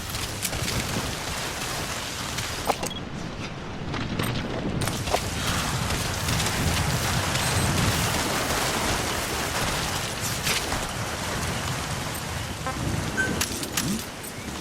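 Steady rain falls in Metal Gear Solid V, a dense, even hiss with occasional heavier patters and a faint low rumble, continuous throughout and fairly close.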